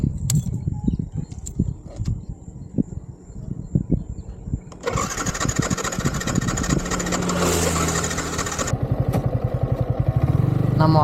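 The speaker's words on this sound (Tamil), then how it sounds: "பைக்கு அகைன் ஸ்டார்ட் ஆகிடுச்சு." A Yamaha R15 v3 motorcycle starts again after ticking and clicking, its engine catching with a loud roar and settling into a close, steady idle with rapid throbbing pulses toward the end.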